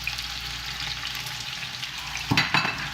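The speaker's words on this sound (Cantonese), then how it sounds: "呢邊咧，我哋咧就會煎佢4分鐘" Vietnamese-style pork chop frying in a pan, a loud continuous close sizzle with a brief crackling burst near the end and no talk.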